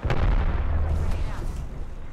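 An arc star and a grenade go off in Apex Legends, giving a heavy low boom with a crackling tail that carries on for about two seconds, loud and close.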